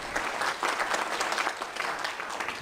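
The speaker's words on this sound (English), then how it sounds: "Could we get one more round of applause for them all, please?" An audience at a candidates' meeting applauds the five council candidates with steady, moderately loud clapping that fills the whole stretch.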